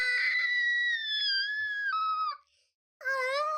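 Screams in a music video: high, sustained vocal wails that hold steady, break off briefly into silence, then resume with a rising, wavering cry.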